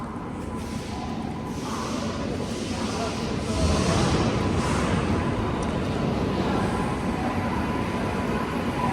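A train rumbles steadily nearby at Chandigarh railway station with a broad hissing roar that swells slightly partway through and stays constant to the end.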